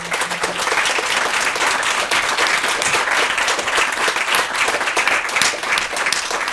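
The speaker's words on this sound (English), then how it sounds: "Can we just give a round of applause to everybody?" An audience at a breakfast briefing panel on neurodivergence in the technology industry breaks into sustained, dense applause that stays loud and even throughout, with no talking over it.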